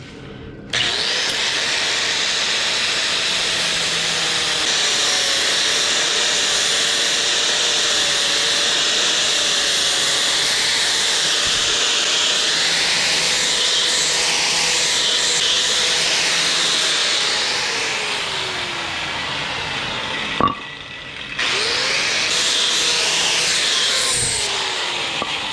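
A power tool, likely a router or sander, rounds the corners of a wooden end table piece in one long, steady, loud whine with a slightly shifting pitch. It cuts out briefly near the end and then restarts.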